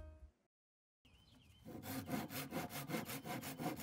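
A hand saw cuts through a red oak board in steady, rhythmic back-and-forth strokes, loud and close, after a brief pause at the start.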